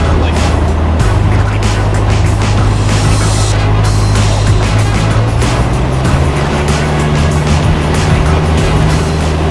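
A small plane's engine runs hard during takeoff on a solo cross-country flight, a loud steady drone with rising tone and rushing wind noise throughout.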